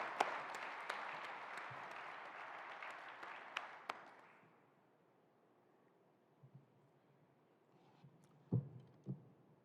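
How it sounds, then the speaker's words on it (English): Audience applauding for sponsors and exhibitors at the opening plenary of a conference in Seattle; broad clapping fills the first four seconds, then fades to a quiet room with a few stray thumps. "Please join me in giving the sponsors and our supportive exhibitors also the well-deserved round of applause"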